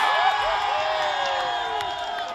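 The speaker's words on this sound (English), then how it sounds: "The crowd goes wild." A stadium crowd at a football match roars and cheers continuously, a dense wash of many voices with shrill whoops rising above, steady and loud throughout.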